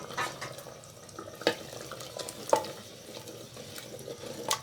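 Chicken being stirred with yogurt in a pan for a Saraiki bhindi gosht, with soft scraping strokes, a few sharper clinks of the spoon against the pan and a low background hiss, no talking.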